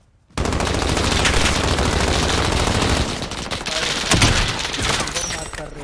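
Rapid automatic gunfire in Call of Duty Warzone bursts in after a short silence, with loud sustained volleys, brief pauses and a sharp crack partway through.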